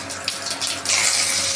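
Cumin seeds hitting hot oil in a kadai, a bright hissing sizzle that jumps louder partway through and stays close and continuous, with no talking.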